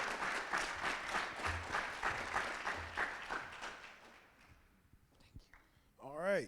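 Audience applause at an academy event, dense clapping for about four seconds that thins out and fades, followed by brief rustling and a short spoken voice near the end.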